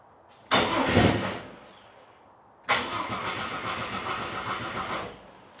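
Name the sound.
old barn-find engine starting on petrol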